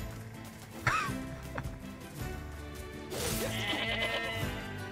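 Sheep bleat in the video game Nier Replicant as they are attacked in the field, one clear bleat near the start and another cry later, over steady game music and ambient sound.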